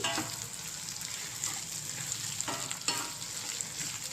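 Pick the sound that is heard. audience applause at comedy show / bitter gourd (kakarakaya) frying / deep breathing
bitter gourd (kakarakaya) frying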